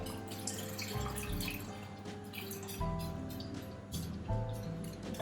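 Beef stock poured into a stew pot for a beef and Guinness stew, a steady liquid splash and trickle running throughout with faint dripping, close and continuous without speech.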